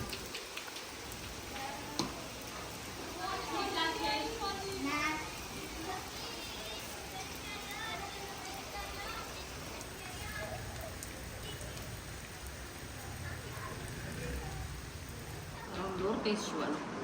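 Steady rain falls in a village, a broad continuous hiss with patter on surfaces, voices and children faintly present underneath, swelling slightly near the end.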